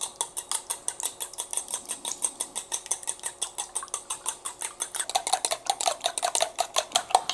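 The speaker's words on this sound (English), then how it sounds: "I'm just gonna whisk my eggs" Eggs being whisked by hand in a bowl, a fast, steady run of light metallic clinks and scrapes against the bowl's sides, close and distinct with no talking.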